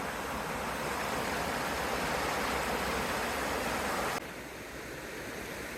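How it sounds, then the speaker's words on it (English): A creek in the California Sierra flows out of sight as a soft, steady rush of water, a little quieter and duller in the last seconds, with nobody talking. "There's the creek."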